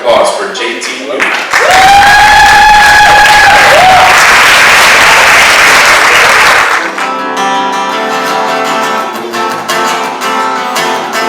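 A theater audience at the Elizabethtown Historical State Theater applauds and cheers for an opening act, loud close clapping with whoops and a sustained tone, fading as music begins under it.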